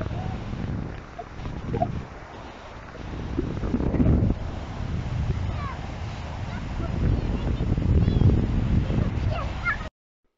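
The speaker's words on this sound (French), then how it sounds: "Il y a trop de vent là" Strong wind buffets the microphone with a loud, rumbling roar that swells and dips throughout, with faint bird calls and scattered noises behind it.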